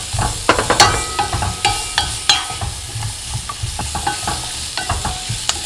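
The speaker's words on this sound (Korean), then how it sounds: "볶아주세요. 지금 기름 도는 거 보이시죠?" Chili flakes stir-frying in oil for a pollack stew, with a steady sizzle broken by repeated close scraping strokes of a spatula against the pan, no voices.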